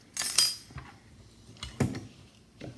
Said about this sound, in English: And then I just mix the ingredients together.